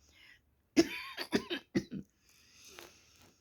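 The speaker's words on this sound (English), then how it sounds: "Yeah, coughing bit going on there, eh?" Several sharp coughs in a quick burst, close and fairly loud, followed by a quieter throat sound after a brief pause.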